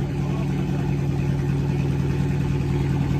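Dodge Charger SRT 392 with a catless exhaust idles steadily nearby, a deep, loud, continuous rumble with no revving, heard alone.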